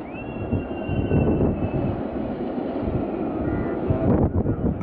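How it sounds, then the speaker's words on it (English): Wonder Woman roller coaster train at Six Flags Magic Mountain rolling slowly over the track during testing, a steady continuous rumble with a faint high whine, heard outdoors amid wind. "I'll keep the footage rolling as the train keeps rolling"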